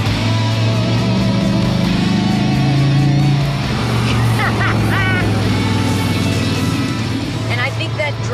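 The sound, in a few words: 1972 De Tomaso Pantera combustion engine driving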